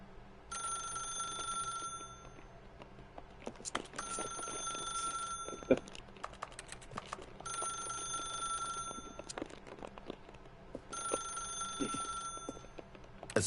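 Telephone ringing in the video game The Stanley Parable: four long bursts of shrill electronic bell ringing, each about two seconds, separated by short pauses with faint background hum.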